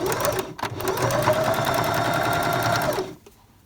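A sewing machine runs a seam on a fabric Advent calendar pouch with a fast, even mechanical whir and needle clatter for about three seconds, then stops abruptly.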